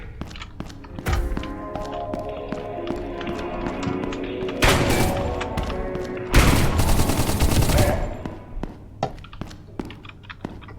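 Gunfire traded in a video game: loud broadband bursts of shots come in short clusters, with heavier sustained volleys in the middle, separated by scattered single thuds and clicks.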